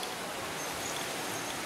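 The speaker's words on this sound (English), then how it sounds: "Sorry about the wind. It's kind of windy right now." Steady rushing noise of wind buffeting a microphone outdoors at a house in the Dominican Republic, constant and fairly loud throughout with no voices.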